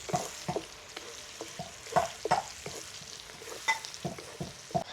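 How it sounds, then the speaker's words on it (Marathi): Onions fry in a pan for a chicken rassa cooked over a wood-fired stove, a soft sizzle broken by scattered stirring scrapes and clinks, fairly quiet, with no talking. "हे बघ कांदा चांगल्यापैकी फ्राय पण झालेला आहे"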